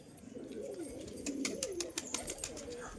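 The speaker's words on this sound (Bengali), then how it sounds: "এই হচ্ছে কবুতর দুটো নামছে" Pigeons cooing close by in a low, warbling murmur, with a few brief sharp flutters partway through, steady and without talk.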